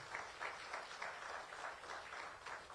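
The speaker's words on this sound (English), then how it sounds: "Let's give you another round of applause." Another round of applause from a conference audience at a safety and health at work conference, faint and distant, a soft, even patter of clapping with a gently pulsing rhythm.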